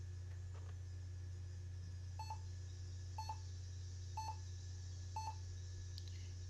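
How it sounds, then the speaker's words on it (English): Four short electronic beeps from a laptop on power-up with a blank screen, an error code, evenly spaced about a second apart, ring out over a steady low fan hum. "And we get a couple of beeps there."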